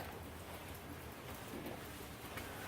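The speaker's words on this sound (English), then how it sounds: "We're out of the rain now." Rain falls outside a partly framed and roofed outdoor run, heard from a dry spot under the new roof. It makes a soft, steady, even hiss of drops that stays faint and distant throughout.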